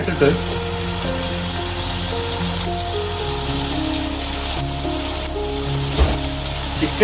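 Chicken sizzling with onions in a hot pan for a Kerala-style chicken curry, a continuous loud frying hiss with steady crackle while someone talks over it and a low hum runs underneath.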